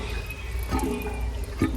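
Water dripping and trickling from a nearly drained tank, a soft continuous wet patter with a few slightly louder drops, close by and steady.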